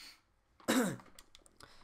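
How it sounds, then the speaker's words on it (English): A single short, harsh cough or throat clear from a man, close to the microphone in a quiet room, fading to near silence afterwards. "I got a bit of a cough."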